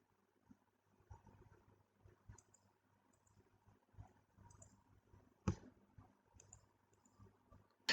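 Faint, sparse computer mouse clicks during Fusion 360 design work on a glass and spoon rack, with one sharper click standing out in an otherwise very quiet room.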